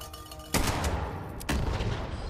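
Two sharp explosive booms from a thrown grenade in Fallout 76, about a second apart, each a sudden loud blast with a rumbling tail, against game background noise.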